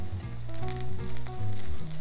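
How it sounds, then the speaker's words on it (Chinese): Onions stir-fry in a hot pan with a loud, continuous sizzle that swells and dips as they are tossed, with no talk. "先炒洋葱，放进去。"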